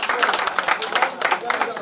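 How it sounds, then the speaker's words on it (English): Audience at a clinic launch event applauding, a short burst of dense, quick handclaps filling the room, with speech mixed in. "Let's give a round of applause, please."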